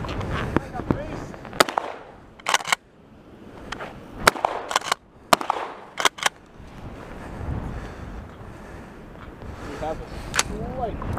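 Shotgun loaded with buckshot fired outdoors in a blizzard, several sharp loud reports spread through the clip, each with a short crack, heard amid wind noise and people talking between shots.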